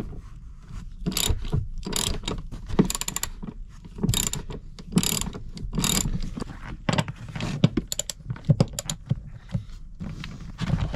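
A ratchet clicks in quick repeated bursts, close and clear, loosening the 14mm back seat anchor bolts on a Toyota 4Runner, with brief pauses and some metallic rubbing between strokes.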